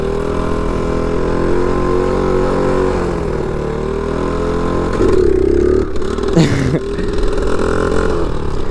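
A motorcycle engine is held at a steady drone, then revs hard in a loud surge during a wheelie and settles back to a rumble, close to the rider.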